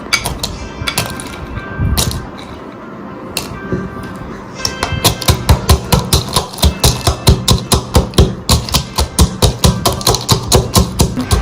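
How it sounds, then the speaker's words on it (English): Butterscotch pieces are coarsely crushed with a series of sharp, rapid pounding knocks, sparse and irregular at first, then a quick steady rhythm of loud close impacts. "we'll put the small pieces into this and we'll coarsely crush this"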